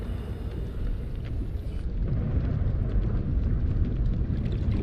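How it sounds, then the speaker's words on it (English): Steady rumbling booms and crashing explosions in the underwater game Subnautica: Below Zero, a continuous dense low roar that swells slightly louder partway through, with no talk. "Just explosions going on"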